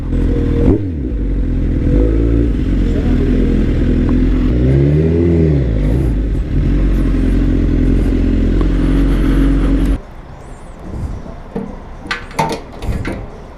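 A motorcycle runs on a motorway near the Yavuz Sultan Selim Bridge with its exhaust come loose, its engine droning loud and close, rising and falling with throttle, then cutting to quieter rattles and clatter near the end.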